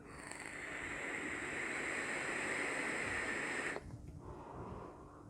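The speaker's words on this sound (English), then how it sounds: "Yeah, there's a slight bit of gurgling there." A long, close inhale through a Vaporesso XIRON GTX coil pod vape, a loud, airy, bubbling draw lasting several seconds that cuts off abruptly, followed by softer breathy noise.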